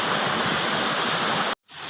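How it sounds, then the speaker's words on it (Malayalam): Loud, continuous roar of a rain-fed river running fast and full nearby, with a short break near the end and nobody speaking. "വെള്ളം കുതിച്ച് ആടുന്നു കുതിച്ച് ആടിയ വെള്ളം"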